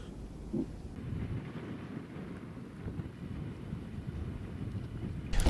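Wind gusts buffet the microphone in a continuous low rumble, rising and falling over a few seconds outdoors while ice fishing in winter.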